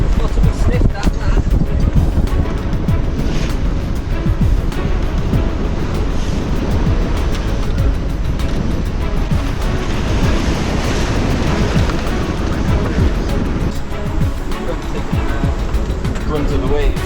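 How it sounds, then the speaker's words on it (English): Big ocean waves slam steadily into the bow of a sailboat in strong trade winds, a loud continuous rush of surf and spray with wind roar; voices talk faintly beneath the noise. "Taking the brunt of the waves on the front. Big waves."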